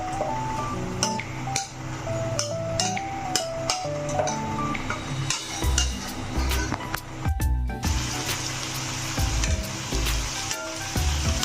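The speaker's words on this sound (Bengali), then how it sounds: "এবার আমি এর মধ্যে ঢেলে দেবো এই তেজপাতা আর গোটা দারচিনি আর এলাচটা। এটাকে একটু নেড়ে চেড়ে নিচ্ছি।" Bay leaves, whole cinnamon and cardamom sizzle in hot oil in a pan, with steady frying crackle and intermittent stirring clinks and scrapes, close and fairly loud throughout, without talk.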